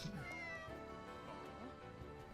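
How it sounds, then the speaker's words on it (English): A cat meows inside the video game Gravity Rush 2, with several plaintive mewing calls heard clearly over a steady bed of game music, and no speech. "That sounded like a cat."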